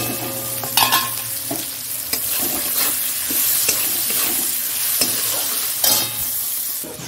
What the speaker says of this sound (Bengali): দিয়ে দিচ্ছি পেঁয়াজটা।